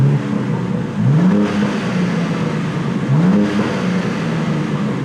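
A BMW M2 in Sport Plus mode cycles through its revs, the exhaust popping and burbling as each rev falls away, loud and close with two rising and falling sweeps.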